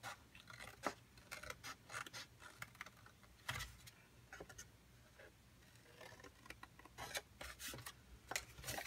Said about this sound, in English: This here that we're cutting though is the bottom